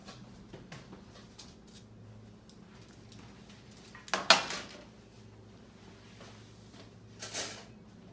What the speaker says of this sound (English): I get a baking sheet and I line that with foil.